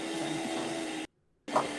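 Robot shooter wheel on an FTC competition robot spinning up and firing rings, a steady loud whirring hum that cuts out abruptly, then resumes after a short silence with a brief louder burst.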